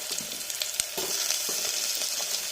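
Cut potatoes go into a curry frying in a pan, setting off a close, bright sizzle broken by small crackles and stirring scrapes, with no voices.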